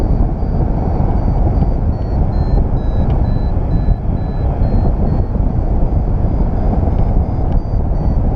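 A paragliding variometer beeps in short high tones during a tandem flight over the Alps, the faint repeated chirps riding under loud, steady wind roar.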